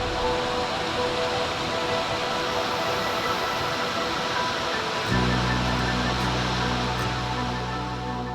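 Cascade Creek near El Capitan in Yosemite rushes steadily past, a broad continuous wash of flowing water; partway through, a low hum joins the background as the water noise carries on without any talking.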